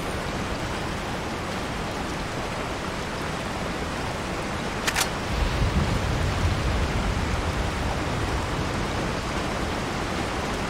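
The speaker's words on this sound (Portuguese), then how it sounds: "Por causa da chuva, provavelmente." Steady rain in the video game Resident Evil 4, a constant soft hiss of falling water with a brief sharp crackle midway followed by a low rumble swelling underneath.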